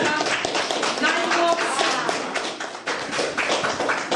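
An audience claps at a children's induction ceremony in Kashubia. The clapping is dense and continuous, with a brief dip partway through before it resumes.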